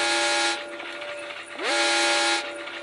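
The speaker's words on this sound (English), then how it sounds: "Get out of here, you stupid train. You horn." Train horn in the video game Granny 3, two loud sustained blasts with a short gap between them, alongside steady rumbling train noise, no talk.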